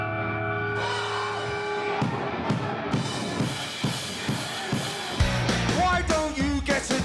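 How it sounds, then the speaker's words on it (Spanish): A loud, full punk band plays hard: driving drums, distorted guitars and a shouting voice, with crashing cymbals and a surge in intensity near the end. "Una banda punk suena así."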